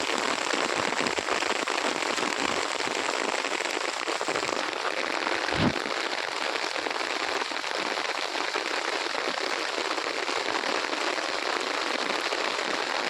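Monsoon rain pours outdoors near a village pond, a dense, continuous hiss of drops striking surfaces that stays steady and fairly loud throughout, with no voices.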